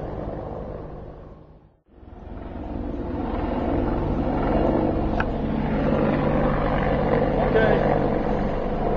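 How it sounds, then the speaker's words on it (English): Heavy, steady rotor rumble of helicopters passing overhead, fading briefly then swelling back loud and continuous. "You're going to hear a little noise from helicopters"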